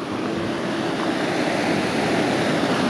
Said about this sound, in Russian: Река широкая, бурная.